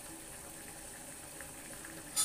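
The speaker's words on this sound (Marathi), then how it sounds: "पहा इथे आपल्या भाजीला लगेच उकळी आलेली आहे." A pot of green pea vegetable curry simmering toward a boil, giving a steady, faint low bubbling hiss throughout with a slightly louder burst at the very end, no talking.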